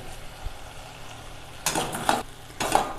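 Onions and tomatoes with rock salt sautéing in a pan for an eggplant sambar: a quiet steady sizzle, then two short louder bursts of stirring and scraping.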